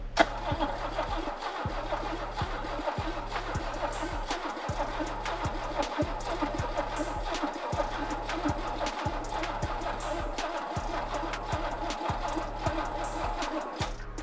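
A car engine cranks on a dead battery hooked to a small charger, turning over to draw fuel up. A steady, rhythmic chugging repeats for the whole stretch without the engine catching.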